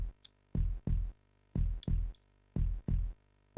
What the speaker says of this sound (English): I got used to the heartbeat